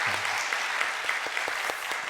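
A church congregation claps together for newly appointed members at a special service, a steady moderate applause with a few sharper individual claps standing out.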